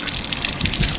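Water gushing out of the inlets of a Mercury 1.0L outboard motor during a reverse flush, a brief, close, steady splashing rush.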